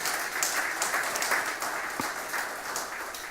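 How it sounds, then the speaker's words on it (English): An audience at a Nordic-Baltic conference session applauds the panelists, a dense, sustained patter of many hands clapping at moderate volume. "I think our panelists have deserved this applause."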